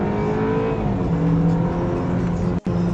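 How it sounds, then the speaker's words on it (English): 2012 BMW 328i engine revving while driving, a loud, close, rising and falling motor note with harmonic tones climbing and settling, briefly cut off near the end as if shifting gear. "going to give you a little bit of idea what this motor sounds like"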